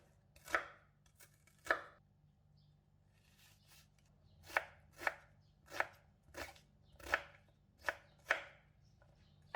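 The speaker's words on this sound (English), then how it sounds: "Then slice them 90 degrees from the first cut. Repeat with the rest of the yellow onions." A knife chops through yellow onions on a cutting board, about nine crisp, evenly spaced strokes with short pauses between them, heard up close with no voices over a faint low hum.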